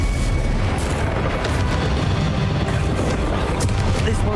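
Bombarda spell explosions in Hogwarts Legacy boom and rumble continuously, a dense, loud low roar of blasts with occasional sharper bursts cutting through the battle noise.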